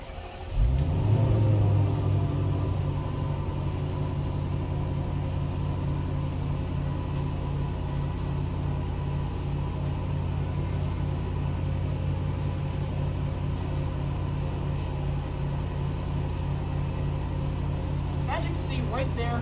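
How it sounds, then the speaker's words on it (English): A 2016 Range Rover Autobiography V8 starts up with a quick crank and a rising rev, then settles into a steady low idle rumble. A faint chime follows near the end. "that is the startup sound of this vehicle"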